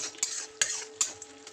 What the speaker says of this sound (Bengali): এইগুলো দিয়ে কষাবো যতক্ষণ না দেখবো তেল ছেড়ে আসছে,